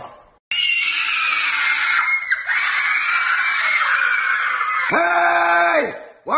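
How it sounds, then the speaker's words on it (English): One person yells loudly in a long, sustained, strained scream that wavers in pitch, breaks briefly, then ends in a rising and falling wail, close and alone. "Why are you yelling?"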